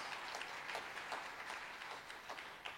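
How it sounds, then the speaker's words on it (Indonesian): A church youth congregation at a revival service applauds, dense rapid clapping from a large crowd filling the space steadily and evenly throughout. "Boleh tepuk tangan lebih meriah lagi?"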